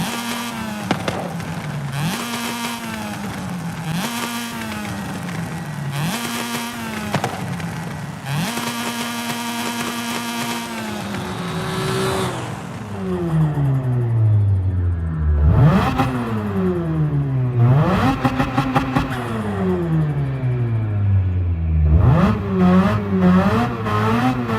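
A car engine in the Forza Horizon 5 or Gran Turismo 7 racing game revs hard through repeated rising and falling pitch sweeps while drifting, loud and continuous, with sharper revving in the second half.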